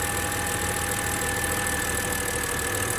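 A BMW X3 E83 engine idles with a misfire, giving a steady, close, low rumble with an uneven knocking pulse running through it and no talking.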